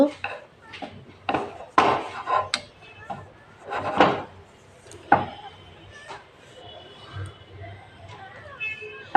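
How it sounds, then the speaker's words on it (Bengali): A knife trims the crusts off stacked bread slices on a board for an egg-and-bread breakfast, giving several sharp cutting strokes and taps close by, interleaved with someone talking. "এবার সাইডগুলোকে ছুরির সাহায্যে কেটে নেব"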